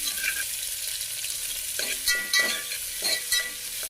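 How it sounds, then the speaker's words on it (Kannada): Onions fry in a pan toward browning with a constant close hiss and sizzle, and a few soft stirring scrapes come through near the end with no one talking. "ಆನಿಯನ್ ಬ್ರೌನ್ ಕಲರ್ ಆಗೋ ತನಕ ನೀಟಾಗಿ ಫ್ರೈ ಮಾಡ್ಕೋಬೇಕು"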